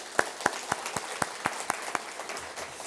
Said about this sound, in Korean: 우리 이교구 식구들 우리 박수 한번 하겠습니다